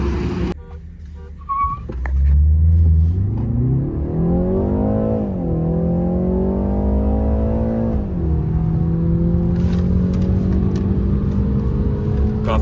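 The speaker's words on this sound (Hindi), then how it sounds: "ये पहली ड्रैग रेस इन दोनों गाड़ियों के बीच में होने वाली है" Two cars, a Mahindra XUV 700 and a BMW 330i M Sport, launch in a drag race, with a loud engine note climbing steadily through the gears and one clear shift before holding a strong, sustained roar to the end.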